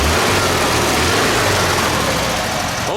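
A 1971 VW Type 3 Squareback 1600 air-cooled engine idles after a valve adjustment, a loud, close, steady rumble with faint mechanical ticking, alone without talk.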